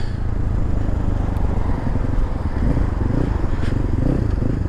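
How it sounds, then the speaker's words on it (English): Engine of a Cross Country 300 motorcycle pulling steadily through the gears, a continuous loud low-pitched drone with rough rumbling texture and wind noise, heard up close while riding, with no talk over it. "Third gear, pulls right on through."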